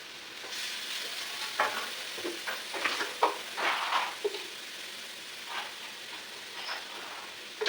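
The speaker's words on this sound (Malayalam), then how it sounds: "എന്തായാലും സവാള വഴറ്റിയേക്കാം" Onions sauté in a pan in a home kitchen in Trivandrum, a steady close sizzle broken by irregular scraping and clinking stirring strokes, with no talking.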